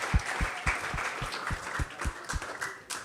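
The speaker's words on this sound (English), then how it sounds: "let's have a big round of applause for them" Audience at a temple youth gathering applauding, busy crowd clapping over a steady rhythmic low thump, close and lively for about three seconds.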